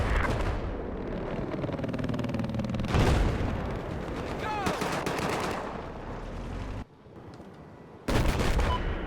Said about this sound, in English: There appears to be an enemy machine gunner operating to your north.